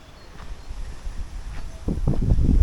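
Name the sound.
big gust of wind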